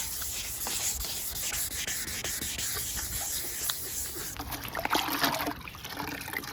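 Hand sanding of a yellowed, hazy car headlight lens with fine 1000-grit paper, a steady close gritty rubbing with a wet, scratchy texture that turns briefly rougher and louder near the end.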